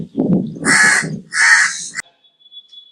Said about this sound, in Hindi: ऐसे ही कौवा काऊ काऊ कर रहा